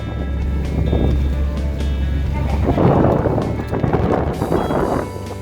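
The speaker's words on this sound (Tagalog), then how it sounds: "Sarap ng hangin." Loud, steady wind rush at a harbour pier with a low engine drone beneath it, swelling in gusts toward the middle.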